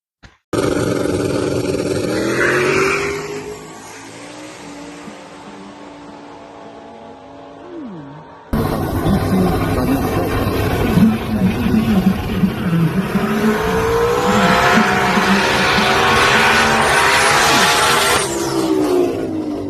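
A race car on 26-inch tires makes a drag racing pass: a loud engine idles and revs, then abruptly roars at full throttle, rising through the gears and holding a long, harsh scream close by.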